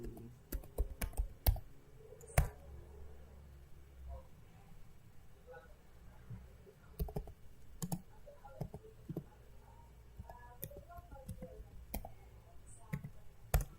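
Someone types a command on a computer keyboard, a quiet series of irregular clicks in short bursts separated by brief pauses.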